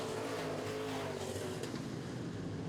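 Midwest modified race cars roar down the front straightaway at a dirt oval feature, a dense, continuous engine drone from the pack, loud and steady with no clear talk.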